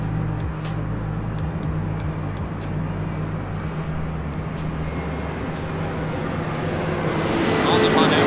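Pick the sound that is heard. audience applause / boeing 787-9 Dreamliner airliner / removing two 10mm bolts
boeing 787-9 Dreamliner airliner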